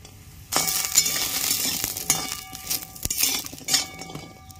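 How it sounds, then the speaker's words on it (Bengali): Lentil dumplings (bori) frying in a wok of hot oil: a loud, steady sizzle with repeated clinks of a metal utensil against the pan, close up, with no speech. "কড়াইয়ের তেল গরম হয়ে গেছে, বড়িগুলো ভেজে নিচ্ছি।"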